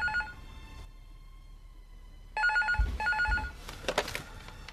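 A telephone bell rings indoors in two short bursts separated by a quiet pause, moderately loud, followed by some clattering noise near the end.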